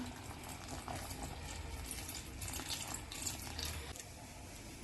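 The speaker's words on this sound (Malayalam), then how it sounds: "ഇനി ഇതിലേക്ക് തേങ്ങയുടെ 1ാം പാല് 1/2 കപ്പ് ചേർക്കാം" First coconut milk pours into a boiling jaggery mixture for a Ganesh Chaturthi sweet, a faint steady liquid stream with soft bubbling throughout and nothing spoken.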